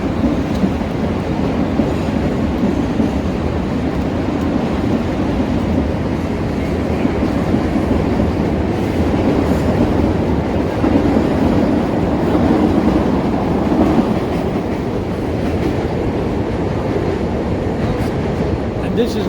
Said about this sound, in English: I hear a train coming. Let's film the train.